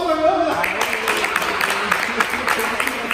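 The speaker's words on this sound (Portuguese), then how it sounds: "Salve de palmas, Pamela!" An audience at a judo athletes' competition event claps for a woman, with a dense, steady patter of many hands over a lively background, while a voice talks at the start.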